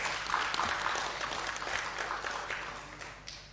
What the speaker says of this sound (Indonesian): Ini kayaknya kita perlu tepuk tangan juga untuk ini.